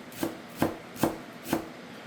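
A knife chops cilantro, stems and all, on a cutting board in four steady, evenly spaced thuds, close and distinct, with no talking.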